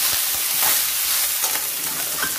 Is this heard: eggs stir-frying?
yes